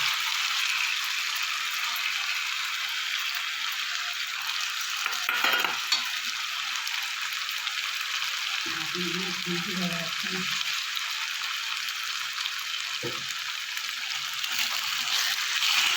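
A paste of tomato, onion, cashew and green chilli frying in a pan for kadai paneer gravy, a steady close sizzle with scraping stirs, a brief voice and occasional utensil knocks.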